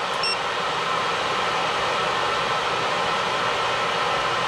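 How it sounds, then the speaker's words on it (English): A hair dryer runs steadily with a constant broad whooshing hiss, close and unchanging throughout. "Okay, stop the hairdryer."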